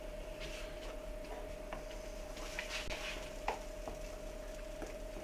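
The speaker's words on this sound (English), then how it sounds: "And stir it around until it melts." Spoon stirring a cup of grated cheddar into a hot pot as it melts, a soft steady scraping with faint sizzle and a few light taps, close and quiet with no talk.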